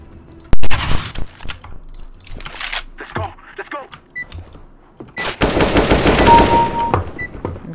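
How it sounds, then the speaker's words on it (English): AK-47 rifle fire in a CS:GO deathmatch on Dust II, with sharp single shots and a long sustained burst, loud and close, mixed with mechanical clinks and someone speaking between shots. "That's the only gun I'll be able to use is the AK-47."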